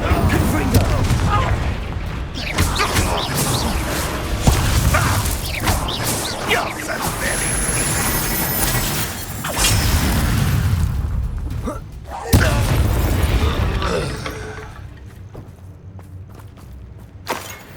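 Confringo and Bombarda spell blasts in Hogwarts Legacy, repeated heavy booms, thuds and crashing impacts during a fight, with a voice shouting spell names between them.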